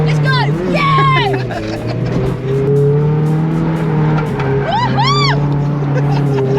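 A Nissan 350Z drifts at a drift day after a clutch kick, its engine loud and close with revs climbing and dropping and tires squealing, while voices shout and cheer over it.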